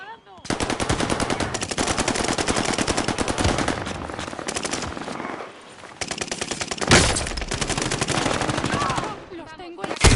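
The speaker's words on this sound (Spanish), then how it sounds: "¡Están disparando!" Sustained automatic gunfire from a Warzone 2 firefight, with rapid machine-gun bursts nearly continuous for ten seconds, a brief lull midway, then loud fire resuming.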